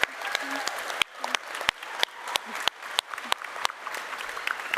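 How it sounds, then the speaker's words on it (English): Audience applause for the ESO development team at a 10-year anniversary celebration livestream, sparse claps rising into a steady ripple with sharp individual hand claps standing out across nearly five seconds. "I want to give them a round of applause"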